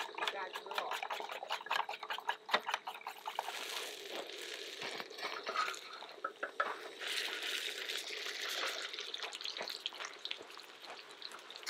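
Hash browns sizzle steadily in a hot pan, with occasional scraping and stirring, as a person talks over the cooking.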